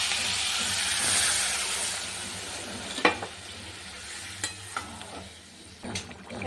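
Water poured into a pan of cooked-down spice masala for a potato and morola fish curry: a strong broad hiss and sizzle that fades, then a few sharp stirring knocks against the pan, close and without talk.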